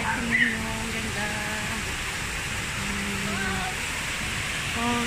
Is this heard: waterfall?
yes